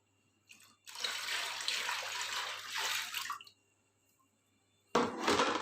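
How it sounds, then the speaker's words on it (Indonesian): Molasses being poured and mixed into rice-washing water, a close pouring and splashing of liquid in two bursts with a quiet pause between. "ini molasenya kita campur dengan air cucian beras"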